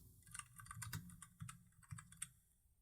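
Someone types on a computer keyboard in quick, close bursts of crisp keystrokes with short pauses between them and no voices.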